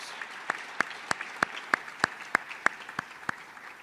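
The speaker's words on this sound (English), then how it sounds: "Congratulations and another round of applause to all these accomplished juniors." A lone pair of hands claps about a dozen steady, evenly spaced times at an awards night, sharp and fairly close over a quiet hall.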